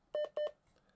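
Keypad beeps from an AOR AR-DV1 radio receiver as a frequency is typed in: two short, clear electronic tones in quick succession, close and loud, followed by quiet.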